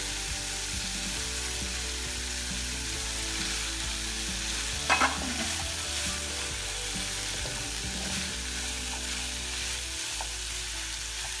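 Onions, capsicum and tomatoes sizzle steadily on a tawa while being stirred, with scraping and clinks from the utensil over the constant frying hiss and no one speaking.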